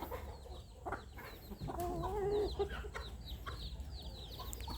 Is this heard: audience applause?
no